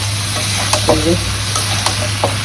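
Prawns and cubed eggplant sizzling with spices in a pan, a steady frying hiss with a few scattered stirring clinks and scrapes, close by.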